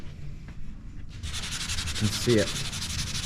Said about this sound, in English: so sanding should be really nice